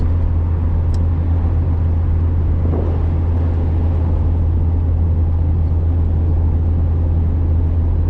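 A car's steady, low engine drone and road rumble fill the cabin on a drive along a country road through farmland into town, constant and unbroken throughout.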